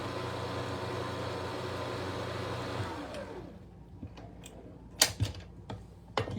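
Electric mixer whirring steadily through muffin batter, a loud continuous motor drone for about three seconds before it switches off, leaving quieter scattered clinks and knocks of a kitchen.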